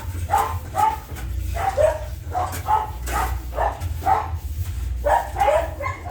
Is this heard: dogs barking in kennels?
yes